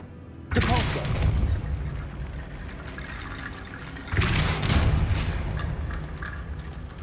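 A Depulso spell fires twice in Hogwarts Legacy, each cast a loud sudden whooshing burst that crashes in and washes out slowly, the second arriving about three and a half seconds after the first.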